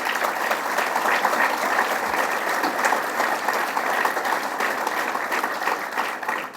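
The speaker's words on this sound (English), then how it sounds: "Let's give her a round of applause." Steady applause from an audience at a governor's public event on Lake Ontario resiliency and economic development, sustained and even throughout with no talk over it.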